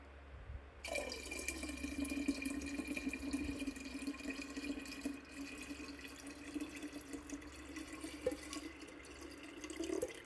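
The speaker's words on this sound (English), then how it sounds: "So I'm going to put the last of the tea into my beautiful kimchi pot." Tea for kombucha pouring steadily into a kimchi pot, a continuous soft liquid stream close by that runs for about ten seconds without pause.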